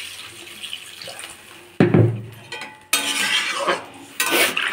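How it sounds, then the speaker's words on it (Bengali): Water pours in bursts into a cooking pot of curry, splashing and gushing close by, mixed with clinks of metal utensils and pots. "এবার দিয়ে দেবো অনেকটা পরিমাণে জল, কারণ এটাই দুবেলার ঝোল।"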